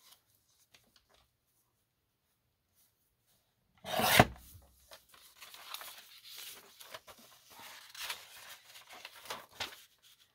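Paper in a journal is trimmed: after near silence comes one sharp cutting rasp, followed by soft intermittent rubbing and scraping of paper, close and quiet, with no talking.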